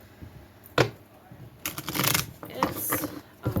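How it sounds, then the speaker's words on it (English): A deck of oracle cards being shuffled on a tablecloth, with several bursts of riffling and shuffling spread across the stretch, fairly close and moderately loud, with faint room noise between them. "Time to shuffle."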